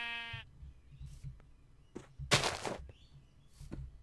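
Sheep in the game Minecraft bleat in short, quiet calls, with one louder, harsher bleat near the middle. Soft game background sounds play between the calls, and no one speaks.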